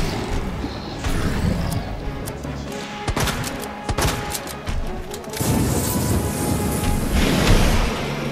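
Game gunfire from Resident Evil 2 with a shotgun, sharp loud blasts scattered among a busy, rumbling soundscape of booms and mechanical noise, with no talking over it.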